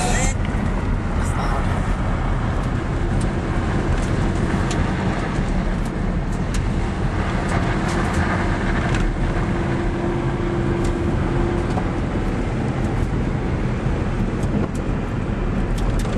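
A car rolls along a gravel road at Christmas Tree Pass in Nevada, a steady loud rumble of tires and engine mixed with wind buffeting, under occasional speech.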